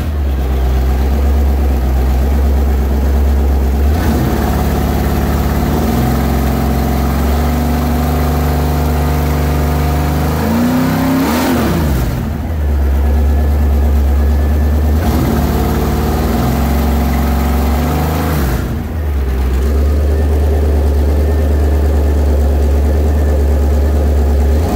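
Oldsmobile 455 V8 rated at 450 hp, installed in a 1987 Olds 442 with new pulley kit, adjusted carburetor and set timing, running loud and close, idling steadily with a few rev rises and drops.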